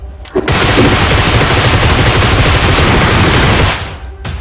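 Sustained automatic gunfire from the battle royale game BGMI, a loud dense burst of rapid shots running unbroken for about three seconds before cutting off.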